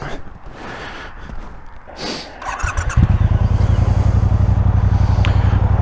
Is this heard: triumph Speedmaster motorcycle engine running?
yes